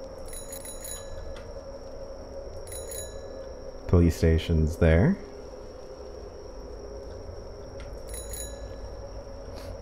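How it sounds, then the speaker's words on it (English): A bicycle bell in a video game rings in a quick cluster of four bright, loud dings, standing out sharply over a quiet ambient game background, with someone speaking briefly just before. "But I do have a fun little bell."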